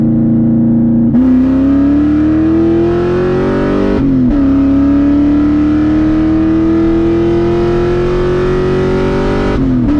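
Ford Mustang 2V V8 on a 150-shot nitrous tune making hard pulls, a loud, close engine roar rising steadily in pitch through each gear with two brief dips at the shifts.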